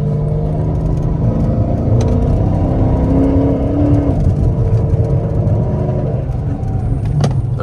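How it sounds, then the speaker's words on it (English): An AWD Dodge Charger R/T on its stock exhaust drones loudly and steadily from inside the cabin, with a low rumble and a rising engine tone as it pulls along busy streets. "if y'all can hear my exhaust, man, it's stock"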